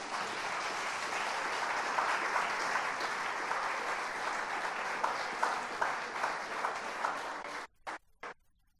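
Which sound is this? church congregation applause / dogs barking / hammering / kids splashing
church congregation applause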